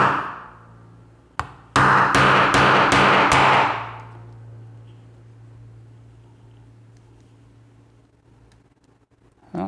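A hammer strikes an American A30 padlock in a fast burst of about five loud, sharp metallic blows after one lone hit, then a long, quiet ringing decay.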